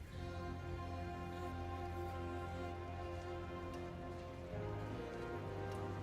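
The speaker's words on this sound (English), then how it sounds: "It's rain." Rain falling in the Diablo 4 game world, a steady soft hiss of drops that holds faint and even throughout, layered over a quiet sustained musical drone with no talking.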